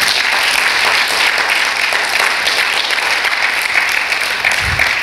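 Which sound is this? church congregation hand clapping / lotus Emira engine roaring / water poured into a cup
church congregation hand clapping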